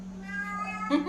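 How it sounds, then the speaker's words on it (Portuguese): A house cat meows close by in one short, drawn-out call that rises at the end, over a steady low electrical hum. "Esse é meu gato miando, né?"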